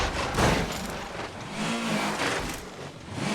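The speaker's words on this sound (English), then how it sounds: "The engine detail there's pretty cool too, isn't it?" Rally car engine revving in the Assetto Corsa Rally game, a gravelly rasping roar that surges and dips in short bursts over a few seconds, close and fairly loud, no speech.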